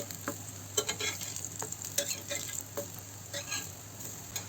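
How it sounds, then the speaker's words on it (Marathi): Masala-coated brinjal slices fry in a pan with a soft steady sizzle, broken by occasional stirring and scraping clicks from the utensil, fairly quiet and close, with no talking. "त्याच्यावर आपण ज्या कापांना मसाला लावलाय ते काप ठेवून घेऊया।"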